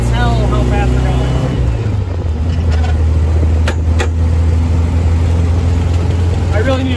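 Bradley GT 2 kit car at speed on the road, a steady loud engine drone and road rumble filling the whole stretch, with a gear change near the start and a voice speaking over it.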